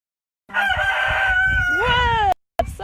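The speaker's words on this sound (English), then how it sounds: "Someone just cock-a-doodle-dooed." A rooster crows once at a farm, a long, loud, close call with a rising then falling tail, followed by a brief second sound after a short gap.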